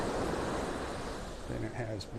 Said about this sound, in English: Every once in a while we get some, nice waves crashing on the shore.